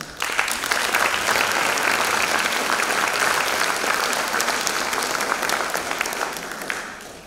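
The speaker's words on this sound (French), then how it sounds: "on l'applaudit" An audience applauds at an evening literary prize ceremony, greeting the jury president with a long, even burst of clapping that holds steady for several seconds before tapering off.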